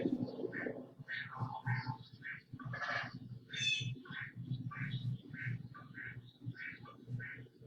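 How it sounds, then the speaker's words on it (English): Assorted backyard birds call repeatedly in short bursts of squawks, chirps and quack-like notes, some near and some farther off, over a steady low rumble of background noise. "We have so many different birds here."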